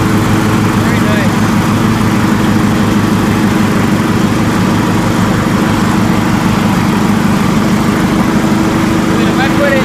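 A John Deere LX173 lawn tractor engine runs steadily at a constant loud drone, with a person talking over it now and then.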